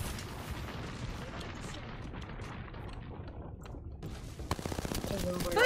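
Rapid gunfire in an arena shooter video game crackles in dense bursts, with booms and heavier shots near the end, under excited voices.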